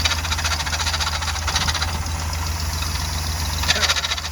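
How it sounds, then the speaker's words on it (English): A 454 big block camper idles with a steady low rumble while a loose knocking clatter from the power steering, hitting something each time the wheel turns, rises in brief bursts, close and fairly loud, with no talking. "Oh, that's every time I turn my wheel. Power steering's hitting on something."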